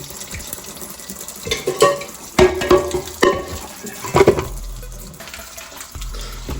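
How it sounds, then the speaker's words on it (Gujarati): Potatoes being rinsed in clean water, with splashing and sloshing in a few bursts of varying loudness, close by, and no talk. "આપણે પહેલાં તો બટાકા ધોઈ દઈએ ચોખ્ખા પાણી બટાકા ધોઈએ"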